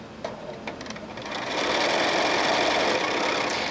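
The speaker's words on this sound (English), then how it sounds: "And I will do some back stitching to tack it into place." Close, steady whirr of a sewing machine stitching the outer seam of a fabric hexagon placemat, with a few light clicks at the start before the motor runs continuously at an even pace.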